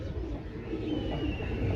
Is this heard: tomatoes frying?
no